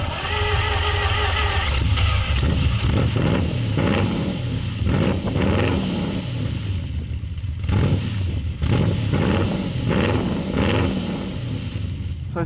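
A 25th anniversary Lamborghini Countach engine fires and runs, a loud, steady, rumbling idle with mechanical clatter and slight surges, heard up close from behind the car with no voices.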